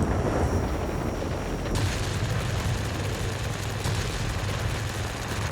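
Rapid aircraft cannon fire in the World of Warplanes flight combat game, a dense sustained roar of heavy guns over a steady engine drone, loud and continuous with a brief surge in intensity partway through.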